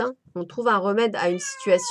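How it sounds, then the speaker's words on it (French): Someone speaks French while a cat meows in the room, a high drawn-out cry rising behind her voice near the end, close and fairly loud. "excusez-moi pour mon chat"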